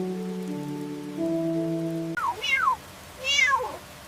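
A cat meows twice in the rain at a camp, with rising and falling cries near and clear over a steady patter of rain, following a stretch of steady tonal droning.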